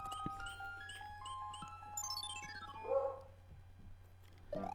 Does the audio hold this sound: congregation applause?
no